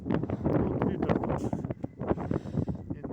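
Wind buffets the microphone with a loud, rough rumble, while someone talks steadily over it close up, outdoors on the Dniester riverbank at Mohyliv-Podilskyi, Ukraine.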